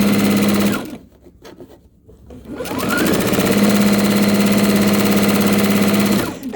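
Loud, close sewing machine stitches charm square quilt blocks: a steady whirring hum runs, drops away for about two seconds while the fabric is adjusted, then speeds back up into a long, even stitching run.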